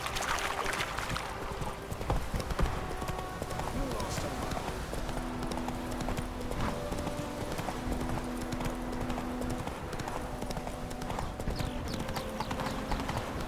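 A horse gallops in the video game The Witcher 3, its hooves beating a quick, continuous clip-clop rhythm at moderate volume. Characters talk over the hoofbeats.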